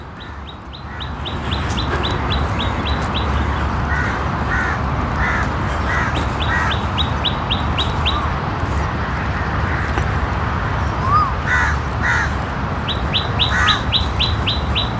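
Crows and other birds call from a tree in a steady chorus. Sharp, rapid trilling bursts repeat over constant background chatter and ambient noise, with no talking.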